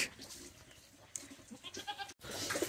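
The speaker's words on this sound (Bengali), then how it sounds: "খামারের ছাগল এইটা" A farm goat bleats in short broken calls scattered through the clip, fairly close, over a busy outdoor background with a brief cut near the end and no talk.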